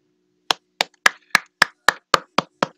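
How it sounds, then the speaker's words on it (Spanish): A steady run of nine sharp, evenly spaced hand claps, crisp and close, sounding more like one person clapping a beat than a crowd applauding, with no voices. "Un aplauso"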